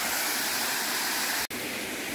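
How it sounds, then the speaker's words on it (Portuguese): A waterfall near Paraty in Rio de Janeiro pours in a constant, dense rushing roar, close and unbroken apart from a split-second dropout. "A água da cachoeira é muito bom pra curar a alma."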